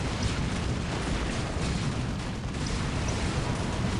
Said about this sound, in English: reply with a grenade of their own